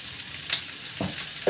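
Onions sautéing in a pan with small shallots, a soft continuous sizzle at low level with a few brief stirring scrapes.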